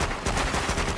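Continuous loud gunfire in a video game, a dense stream of rapid shots packed tightly together with no pauses, filling the whole short moment.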